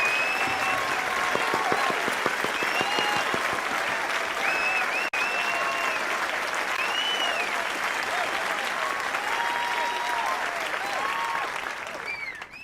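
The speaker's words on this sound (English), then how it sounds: "let's give a round of applause to the Paladins" Long round of audience applause at a student indie game pitch contest, steady close clapping with chirpy whistles and cheers on top, tapering off at the end.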